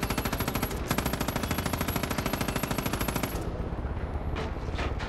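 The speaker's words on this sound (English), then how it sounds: "Oh, they shooting me." Rapid automatic gunfire in Far Cry 5, a dense, loud, steady stream of shots aimed at the player for several seconds, then thinning into scattered bursts and distant echoes.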